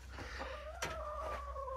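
Hens scratching about on the ground give soft, close clucks and a drawn-out warbling call over a steady low outdoor background, with no talking.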